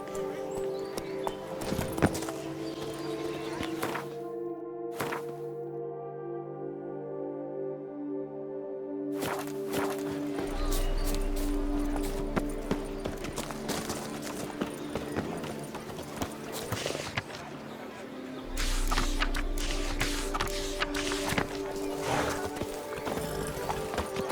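Hooves of Geralt's horse Roach clip-clop in a steady trot through The Witcher 3, with short gaps, occasional whinnies and a voice speaking over the rhythm.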